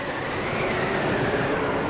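A train in the Dreamcast game Sonic Adventure rumbles steadily in a continuous, fairly loud rolling drone with no breaks.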